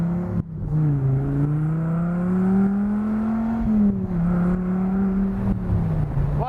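A 1993 Dodge Viper engine revs and accelerates at about half throttle, a deep, loud, steady drone that climbs and falls in pitch as it pulls through the gears, with no talk over it.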